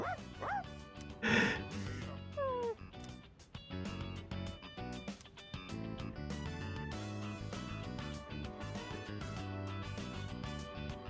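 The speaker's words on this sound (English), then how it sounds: "she just looks at you and makes a very loud, demanding bark" A dog in Persona 3 Reload gives a short yipping bark near the start, with game music and effects continuing underneath for the rest of the stretch.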